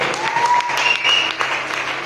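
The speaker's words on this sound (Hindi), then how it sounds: "एक बार जबरदस्त तालियां माता रानी के लिए, वाहेगुरु के लिए, अल्लाह के लिए, सब जबरदस्त तालियां" Enthusiastic applause from the audience at an open public meeting in Safidon, a brief, dense burst of clapping with a faint tonal hum underneath.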